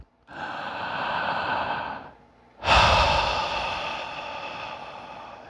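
One long, slow breath out is followed by a deeper, louder breath in that trails off gently. The breathing is close and airy, with no talking.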